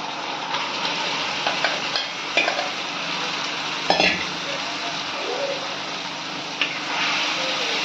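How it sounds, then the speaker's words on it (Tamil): Marinated chicken fries in a pan with a bright, steady sizzle close by, punctuated by scattered utensil scrapes and knocks as it is stirred. "இதுலேயே ஃப்ரை பண்ணுங்க கொஞ்ச நேரம், ஒரு 5 minutes."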